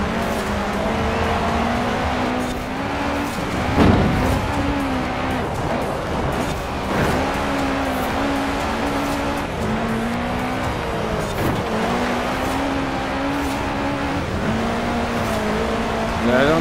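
A Subaru racing in Forza Horizon 4 produces a continuous, loud game engine drone whose pitch repeatedly climbs and drops through gear changes, with occasional bursts of tire and road noise.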